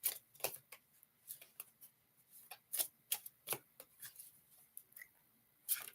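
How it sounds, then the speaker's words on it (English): Tarot cards shuffled by hand during a live reading, giving quiet, close riffling bursts and soft slaps in an irregular rhythm, with no voices. "Oh, I want to give one more shuffle."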